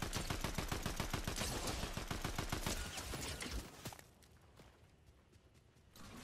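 Rapid bursts of automatic gunfire in the video game Fortnite, loud and dense for about four seconds, then dropping to quieter scattered shots and distant reports.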